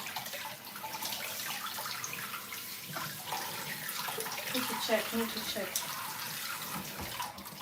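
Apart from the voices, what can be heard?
water running from a tap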